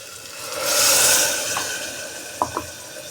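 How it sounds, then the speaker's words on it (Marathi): Water is poured into a mixer grinder jar while making shevgyachi bhaji (drumstick vegetable curry): a close, steady hiss that swells and fades within about a second, followed later by two small clinks. "मिक्सरचं भांडं हिसळून आपल्याला एवढंच पाणी घालायचं आहे"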